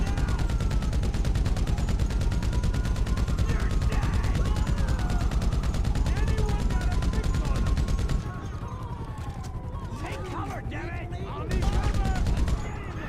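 Steady rapid gunfire from a favored high-capacity gun in GTA V, a long unbroken stream of shots that drops in level partway through, then briefly swells again.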